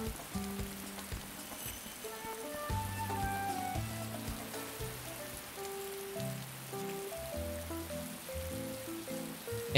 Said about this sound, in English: It is always raining in this game.